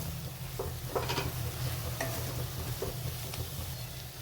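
Paneer bhurji with fresh coriander is stirred in a pan, a spatula scraping in a few soft, scattered strokes over a steady low hum and quiet background sizzle.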